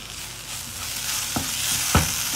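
Chopped ripe tomato stirred into a frying masala for creamy egg masala, a steady sizzle with two short scraping strokes of the spoon near the end, close and moderately loud.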